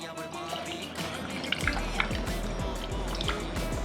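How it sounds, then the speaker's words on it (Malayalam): Liquid splashes over ice in a cocktail shaker, a short close pour with crisp drips and trickling. "ഷേക്കറിലേക്ക് ഐസ് ഇടുക, ഗോതമ്പ് വെള്ളം ഒരു 60 അതിലേക്ക് ഒഴിക്കുക"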